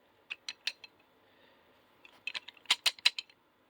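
Snap-on adjustable pliers being worked: quiet, close metallic ratcheting clicks in two short bursts, a few spaced clicks, a pause, then a quicker sharper series.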